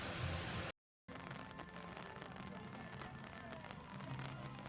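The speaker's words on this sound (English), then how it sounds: "It started to rain now, and I've got an umbrella." Light rain patters steadily on an umbrella, a dense, even hiss of fine drops close overhead that pauses for a brief moment early on before continuing unbroken.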